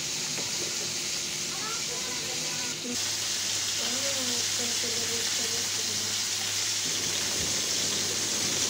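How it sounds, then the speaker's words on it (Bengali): Koi fish fry in a pan on a kitchen stove on a rainy afternoon, a constant close sizzle and crackle running throughout while someone talks over it. "এখানে মাছগুলো ভেজে নিচ্ছি আর কি। তো কই মাছ ভেজে নিচ্ছি।"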